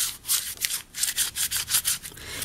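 Rhythmic rustling and scrunching of brown paper being crumpled, about a dozen close, crackly strokes in quick succession.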